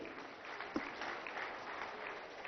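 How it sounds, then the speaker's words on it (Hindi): An audience at a Bihar Diwas event claps steadily together, the applause faint and muffled with one sharper clap standing out early on. "एक बार आप सब लोग ताली बजाएंगे।"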